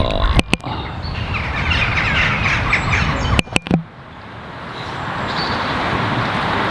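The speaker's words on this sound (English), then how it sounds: "right now I can hear birds doing their thing" Birds singing outdoors, a scatter of chirps and tweets over a steady background hum of distant road traffic, with a few sharp clicks of handling noise midway.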